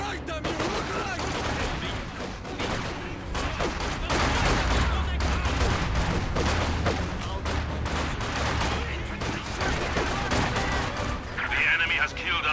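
Company of Heroes 2 battle on the Soviet side: dense, continuous rifle and machine-gun fire with heavy artillery booms rumbling underneath, loud and unbroken throughout, with soldiers' shouted voices mixed in.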